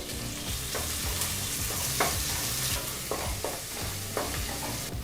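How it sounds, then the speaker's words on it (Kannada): Finely chopped onion fries on a medium flame for chicken gravy, a steady dense sizzle running throughout with a few spoon scrapes and stirs popping out at intervals, close and fairly loud, no voices. "ಮೀಡಿಯಂ ಫ್ಲೇಮ್ನಲ್ಲೇ ಮೂರರಿಂದ ನಾಲ್ಕು ನಿಮಿಷ ಈರುಳ್ಳಿನ ಫ್ರೈ ಮಾಡ್ಕೋಬೇಕಾಗತ್ತೆ"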